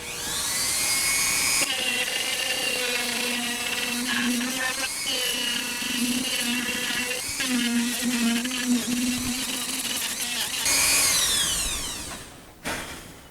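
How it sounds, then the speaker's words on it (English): A small rotary power tool with a grinding wheel sands the edges of a cut Pikachu light-up display piece, whining steadily for about nine seconds with shifting pitch as it works, then winding down and briefly spinning up again. "Everything sanded, nothing sharp."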